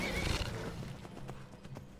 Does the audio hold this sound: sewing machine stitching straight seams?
no